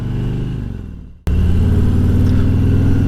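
Motorcycle engine rumbling steadily on a ride, cutting out briefly then surging back to a loud, continuous close-up drone.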